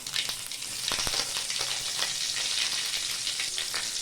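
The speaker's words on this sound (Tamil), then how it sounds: "கொஞ்சமாக சீரகம், அதே தான் கடுகு, கொஞ்சமாக சீரகம், 2 பொரியட்டும். கருவேப்பிலை போட்டுடலாம்" Mustard seeds, cumin and curry leaves sizzle and crackle steadily in hot oil, a bright continuous hiss with scattered pops and stirring, fairly close and with no voices.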